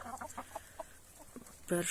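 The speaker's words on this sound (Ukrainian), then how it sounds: "Кури зараз повечеряють і будуть спати лягати." Hens clucking in short, separate bursts nearby at dusk, a few soft clucks followed by a louder, sharper squawk at the end.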